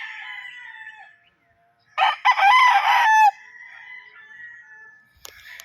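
Six-month-old Gull and Butcher bloodline gamecock roosters crow close by, one loud full cock-a-doodle-doo in the middle, with thinner crows and clucks before and after.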